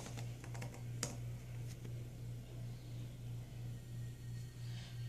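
Keys clatter on a Lenovo N22 laptop keyboard as a password is typed in a quick, uneven burst of close clicks, with a steady low electrical hum running underneath.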